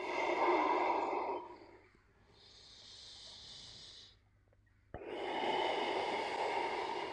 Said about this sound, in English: try and maintain those lovely long slow breaths in and out of the nose